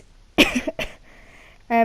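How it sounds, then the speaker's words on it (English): A man with a badly sore throat coughs a couple of times, close and sharp, during a football chat, and his speech resumes right after. "sorry about my cough"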